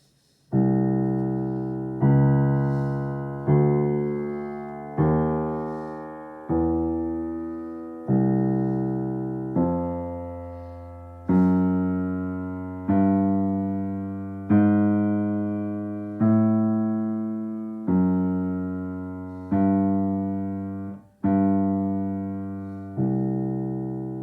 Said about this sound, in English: there's a more melodic bass line available to us.